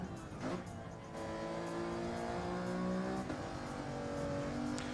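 Race car engine in Gran Turismo 7 held at full throttle on a racing lap at Road Atlanta, a loud, steady rising whine with a gear-change dip partway through, close and continuous with no talk over it.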